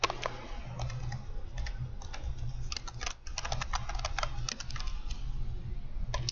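Steady typing on a computer keyboard, rapid close keystrokes in uneven bursts with a brief pause midway, over a low background hum.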